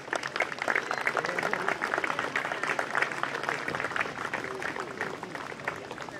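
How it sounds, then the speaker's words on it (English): Applause from an outdoor concours d'elegance crowd at Keneeland, honoring a classic car at an awards ceremony; dense, steady clapping fills the whole stretch at a fairly loud, even level with no pauses. "big round of applause for this beautiful piece of machinery."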